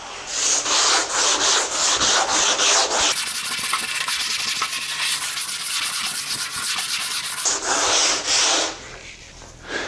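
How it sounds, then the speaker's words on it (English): A sanding pad is rubbed by hand over a wood surface in steady back-and-forth strokes, a continuous close, loud scratchy rasp with a harsher, denser stretch in the middle. "You can probably see how I like this sanding pad."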